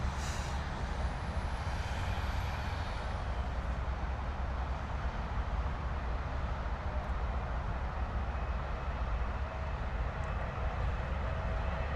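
Air India Boeing 777 airliner landing at London Heathrow, a steady, distant broadband roar of jet engines that stays constant throughout, with a faint rising whine near the start and no voices.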